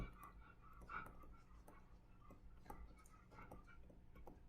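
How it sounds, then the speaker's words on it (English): A dog pants softly in a quiet room, faint rhythmic breathy puffs with occasional ticking sounds, distant and low in level. "Even my dog, who is panting behind me right now, can tell you this is not a polynomial"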